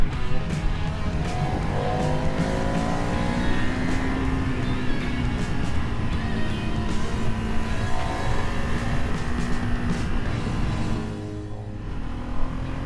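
A 2026 Ducati Monster V2 motorcycle engine drones steadily under load at close range, rising and falling in pitch as the rider shifts and accelerates, with heavy wind rush throughout and a brief drop in intensity near the end.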